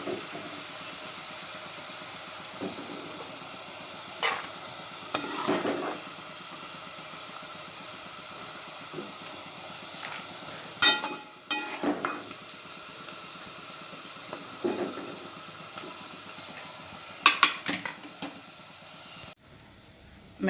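Fried masoor lentils being scooped out of a pan onto a plate, with a low steady sizzle beneath scattered scraping and clinking of a spoon against metal, close and fairly quiet, with no voices.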